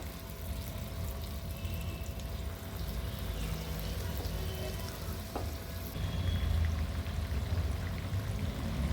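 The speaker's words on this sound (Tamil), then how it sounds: "ஒரு பேனில் எண்ணெய் வச்சுருந்தேங்க எண்ணெய் சூடாயிடுச்சு இப்போ பனியாரத்தை போட்டுக்கலாம்" Masala paniyaram batter goes into hot oil in a pan and sets off a continuous, fairly soft frying sizzle, a dense crackling hiss that holds steady and swells slightly toward the end, with no talk.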